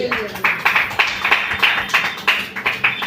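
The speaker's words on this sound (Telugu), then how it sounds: "చప్పట్లు కొట్టి దేవుడికి స్తోత్రం." A church congregation claps together in praise, a steady rhythmic beat of many hands filling the room, fairly loud and even throughout.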